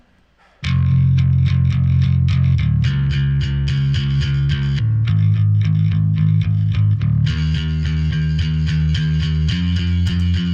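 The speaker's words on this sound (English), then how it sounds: "obviously there's bass if you want to hear the bass" A distorted, effects-heavy bass plays a thick, rhythmic line of repeated notes, starting abruptly and continuing loudly through the passage.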